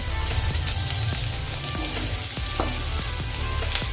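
Chopped onion sizzles and crackles in hot oil, a steady fry with occasional sharper pops and stirring clicks, close by.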